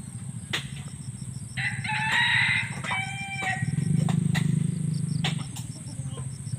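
Chickens outdoors, a rooster crowing loudly and nearby with hens clucking, over a constant background rumble and faint voices.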